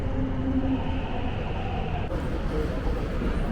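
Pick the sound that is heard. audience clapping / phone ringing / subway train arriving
subway train arriving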